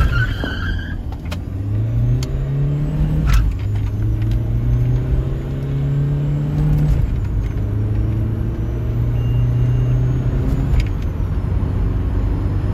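A loud modified Mahindra Scorpio S11 engine roars continuously, its raspy straight-pipe exhaust note climbing in pitch through repeated gear shifts as it accelerates hard from zero to 100, with no talking.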